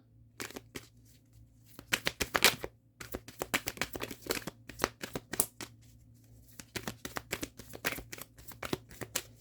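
Tarot cards shuffled and drawn during a Leo reading, a close run of crisp riffling snaps and slaps that comes in bursts across the whole stretch, with short pauses between them and no talking.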